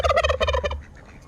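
A turkey gobbles loudly and close by, a rapid burst of warbling calls lasting under a second, then quiet farmyard background with no talk.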